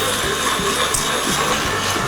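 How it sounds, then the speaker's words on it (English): A meat grinder churns beef for burgers on its second pass, a loud, steady mechanical grinding and whirring that stays close and continuous, with no voices. "I'm gonna go back through with the second grind"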